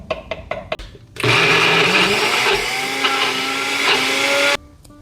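Countertop blender whirring loudly through a batter of eggs, Italian seasoning and baking powder, starting abruptly after a few clicks and knocks and running steadily for about three seconds before cutting off.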